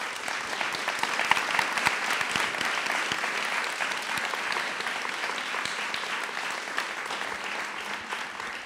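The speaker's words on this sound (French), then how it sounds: "On peut l'applaudir." An audience at a talk on the future of work gives sustained applause for the speaker, a dense, even wash of many hands clapping that continues steadily for several seconds.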